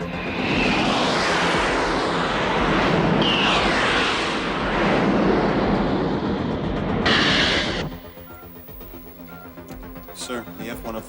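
F-104 jet fighter roaring past in a film action scene: a loud, sustained broadband jet rush that swells and shifts for several seconds, then cuts abruptly to a quieter background with faint tones.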